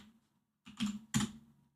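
Keys tapped on a computer keyboard while entering a 23.5 cm dimension during 3D modeling of a hard drive in Blender; two short close bursts of clicking after near silence, no voices.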